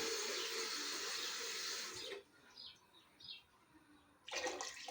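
Water runs loudly from a tap or hose while a garden is watered, then cuts off, leaving faint bird chirps over quiet background before the rush of water starts again.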